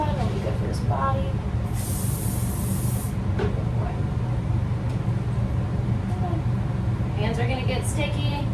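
A spray bottle spritzing a dog's fur during a home grooming and shave, a short hissing burst heard close amid background noise and low voices.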